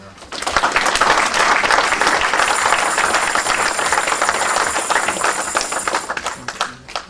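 A church congregation breaks into sustained applause, loud and dense, swelling quickly and holding for several seconds before tapering off, with a few voices mixed in among the clapping.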